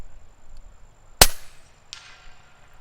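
A single sharp, loud crack from an FX Crown MKII .30 caliber PCP air rifle fired close by, followed about a second later by a fainter distant impact on the target, in otherwise quiet surroundings.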